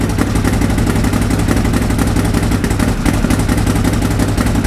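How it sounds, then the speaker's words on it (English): A 2013 Arctic Cat Wildcat 1000x side-by-side idles roughly close up, a loud, uneven rumbling engine clatter that pulses and wavers throughout. "It's actually running. It sort of goes in and out, like for the most part it's running smoother than it has these sort of rough spots."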